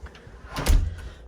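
Front door of a house being opened on entry, a door in need of repainting: a single muffled thump and creak of the door moving, close by and brief, with no speech over it.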